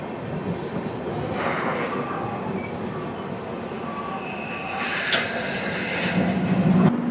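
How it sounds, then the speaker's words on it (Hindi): The Jodhpur Express passes at a station in Rajasthan, India, a steady loud rumble of rail cars with clattering wheels and a high metallic screech rising near the end. "और ये हमारे सामने भैया ये पूरी जोधपुर एक्सप्रेस, जोधपुर से चलकर पूरी को जाने वाली ट्रेन"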